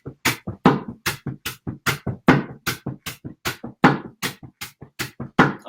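Junk percussion in a STOMP style: a brisk, even train of sharp broom-sweep swishes and stepping-foot thuds alternating on the offbeats, close and loud, with no talking.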